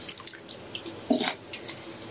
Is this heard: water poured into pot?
yes